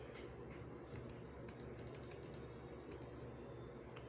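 Typing on a computer keyboard, quiet clusters of quick key taps with short pauses between bursts, heard alone against a low steady background hum.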